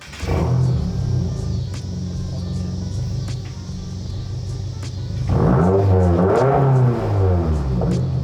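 A Subaru WRX engine rumbles steadily at close range, then revs up with rising and falling pitch before settling back into a loud, throbbing idle.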